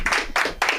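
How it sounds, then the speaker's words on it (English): A short burst of hand clapping in three quick surges, fairly close and lively, like a small audience applauding at a comedy show. "Let's give it up. A round of applause here."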